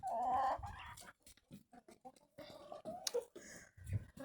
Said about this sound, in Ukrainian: О, півник.